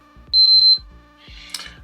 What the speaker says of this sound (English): And I could hear 3 beeps.